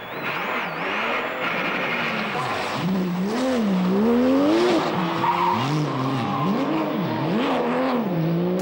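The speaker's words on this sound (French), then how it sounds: "Duet sur le circuit de Spa-Francorchamps, enneigé, tout en glisse avec la GT3" A Porsche GT3 slides sideways through a snow-covered Spa-Francorchamps circuit in a 2006 Belgian championship rally, its engine loud and close, revs swooping up and down continuously as the car drifts through the bends.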